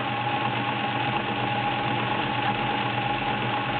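Sears Kenmore Model 1802 sewing machine running steadily while stitching a multi-point zigzag through 12 layers of cotton with a size 16 needle, a continuous close mechanical whir and hum with no talking.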